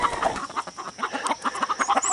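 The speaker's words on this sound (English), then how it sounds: "I swear, chickens are so crazy." Chickens clucking close by in a quick, irregular run of short calls, fairly loud and alone without talk.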